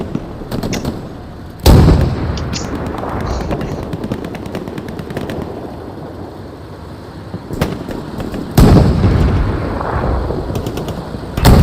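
Explosions and gunfire in the WWII shooter Hell Let Loose: two loud bursting blasts about seven seconds apart, with rapid machine-gun rattle and scattered shots filling the gaps.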